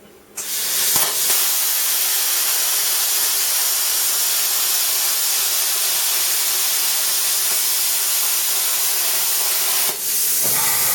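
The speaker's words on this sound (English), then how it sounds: "So we'll cut this piece of steel and we'll have a look." Plasma cutter running at 40 amps slices through a piece of steel, a steady loud hiss and airy roar starting abruptly and holding for about ten seconds with a brief dip before the end, close up and without speech.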